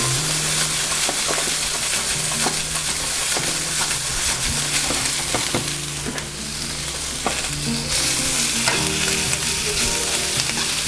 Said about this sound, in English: while the green beans are cooking